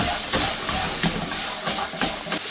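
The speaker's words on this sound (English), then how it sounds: "So we're just going to flash fry these prawns." Prawns flash frying in hot vegetable oil give a loud, steady hiss with a few stronger surges, close up and with no talking.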